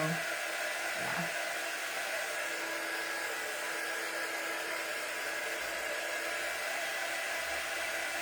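A hair dryer blows steadily throughout, a constant airy whir at moderate level, with a faint brief voice-like sound near the start.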